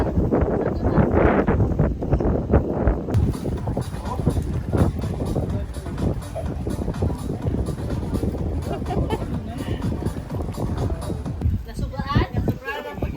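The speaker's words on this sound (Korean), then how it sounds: "바람이 엄청 불어갖고 불 붙이는 게 엄청 힘들었어요" Strong wind buffets the microphone at a paid beach in the Philippines, a loud continuous rumbling roar that persists throughout while people talk over it.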